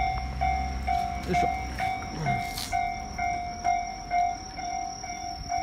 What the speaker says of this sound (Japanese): また電車来た